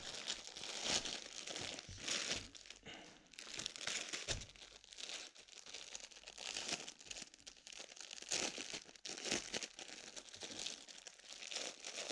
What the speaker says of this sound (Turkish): Bugün paketi açacağız